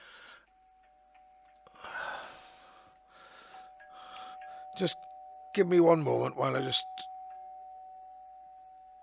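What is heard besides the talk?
Ring-style doorbell alert chiming on a phone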